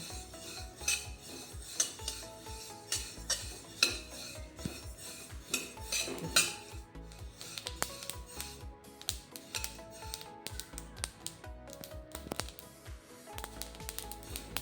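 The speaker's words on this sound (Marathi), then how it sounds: "म्हणून मी सारखी परतवत आहे ह्या पद्धतीने आपल्याला तीळ भाजून घ्यायची आहे" Sesame seeds roast in a pan while being stirred constantly, producing busy metallic scraping and clattering of a spoon against the pan, close and irregular, without speech.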